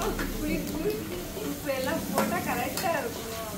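Food sautés and sizzles in a pan while being stirred, with a steady frying hiss and scraping, as people talk over it at an office Diwali cooking gathering.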